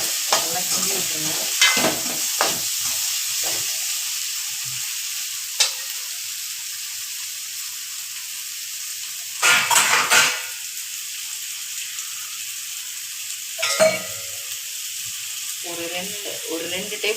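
Raw plantain slices stirred in a pan with no water, giving a steady soft sizzle of frying. Louder scraping bursts from the spoon break through now and then.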